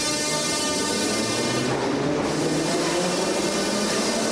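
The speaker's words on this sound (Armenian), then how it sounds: "Երևանի մետրոպոլիտենը" A Yerevan metro train runs with a steady, close mechanical hum and rumble carrying faint droning tones, continuous and unbroken throughout.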